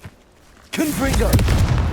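A Confringo fire spell from Hogwarts Legacy bursts in sharply after a quiet opening, then gives way to a sustained crackling roar with brief tonal chirps, loud and close.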